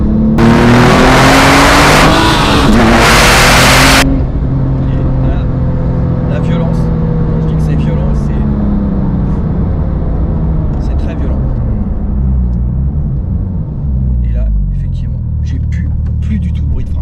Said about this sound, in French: Alors juste pour le plaisir, je vous refais une accel.